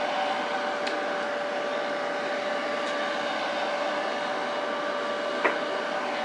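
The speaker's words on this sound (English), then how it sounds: "Using a hairdryer here just to kind of speed up the process." Hair dryer blowing warm air over leather to dry a coat of antiquing resist: a steady, even whoosh with a faint electric whine, constant and close, with no talking.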